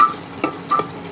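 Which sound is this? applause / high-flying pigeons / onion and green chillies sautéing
onion and green chillies sautéing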